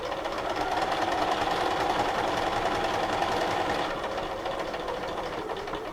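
A sewing machine stitches a purse with a rapid, even mechanical chatter, close and steady for several seconds, easing slightly toward the end.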